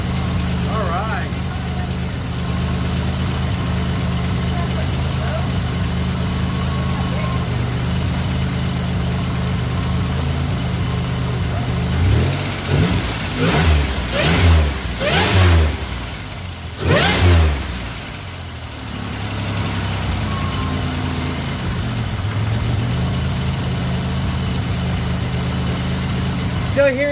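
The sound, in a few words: rebuilt Grand Am 3.8 engine running with ticking noise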